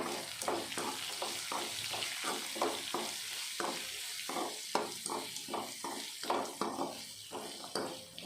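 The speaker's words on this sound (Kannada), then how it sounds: "ಈರುಳ್ಳಿ ಸ್ವಲ್ಪ ಫ್ರೈ ಆದ ನಂತರ ಸ್ವಲ್ಪ ಅರಶಿನ ಪುಡಿ ಹಾಕಿ ಫ್ರೈ ಮಾಡ್ಕೊಬೇಕು" Sliced onion with turmeric powder sizzling in a pan, frying with a steady crackle broken by repeated scraping stir strokes, close and alone.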